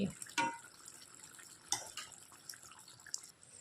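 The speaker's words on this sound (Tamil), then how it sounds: "பாருங்கள் ஃப்ரெண்ட்ஸ் குழம்பு நல்லா அழகாக கொதிச்சிருச்சு" Chana dal dumpling gravy (urundai kuzhambu) simmers in a pot with faint, sparse bubbling pops and soft plops scattered over a quiet background.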